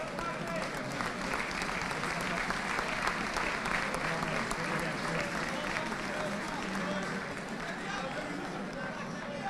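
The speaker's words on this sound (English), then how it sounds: "let's give him a big round of applause as well" A crowd gives sustained, dense applause for the referee at a schools senior cup final medal presentation, with a steady roar of clapping and mingled voices for the whole stretch.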